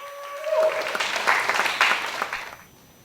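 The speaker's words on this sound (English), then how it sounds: "please give him a warm round of applause" Audience at a psychedelic symposium applauding to welcome a speaker to the stage, a short swell of clapping that starts as a tone fades, holds briefly, then dies away.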